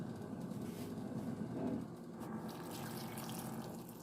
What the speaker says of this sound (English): I'm just going to add 2 cups of water